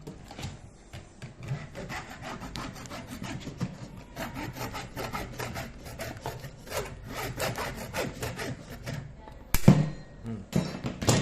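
Handheld saw cutting back and forth through the plastic body of an IP67 solar panel light, a steady rasping rhythm of repeated strokes lasting throughout, close and fairly loud, with a sharper knock near the end.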